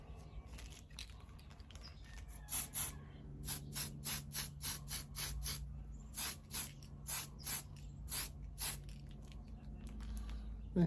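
Spray paint mists onto a 1937 Ford Pickup model car in a rhythmic series of short hissing bursts, heard close up over a faint background hum.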